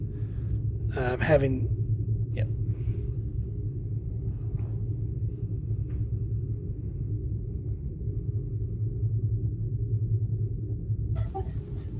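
Deep, steady rumble of a starship buffeted by storm turbulence in the Badlands in a Star Trek game, a continuous low drone that holds for the whole stretch, with a brief higher swept tone near the start and faint bleeps.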